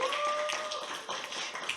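Applause for a musician at an interview event marking five years of her album, a soft, steady patter of clapping heard at a moderate distance, with a faint whistle-like tone early on.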